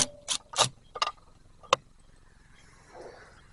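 A few sharp metallic clicks and ticks from a screwdriver backing out square-drive screws on an RV's old 50 amp cable, spaced irregularly over a couple of seconds, close and fairly quiet, followed by faint rustling.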